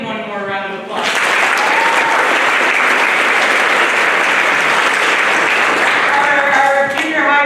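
A school concert audience at a spring band concert bursts into loud, sustained applause for the band students, steady and dense for several seconds, with a voice speaking briefly before it starts and again as it fades.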